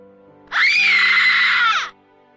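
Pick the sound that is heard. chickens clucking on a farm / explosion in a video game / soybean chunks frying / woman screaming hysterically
woman screaming hysterically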